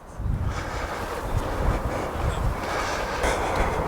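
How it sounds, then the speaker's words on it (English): Strong gusting wind on a golf course at Radnor Golf and Leisure in Cornwall, roaring steadily across the microphone as a broad, rumbling rush with no voices. "the wind is now gusting quite strongly"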